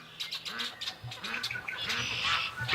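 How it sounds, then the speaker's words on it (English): Ducks in a yard quack loudly in quick, repeated bursts, several nasal honking calls overlapping at close range over a few seconds. "They're walking around quacking like super loud this morning."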